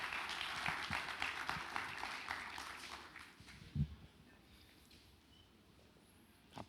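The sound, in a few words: audience applause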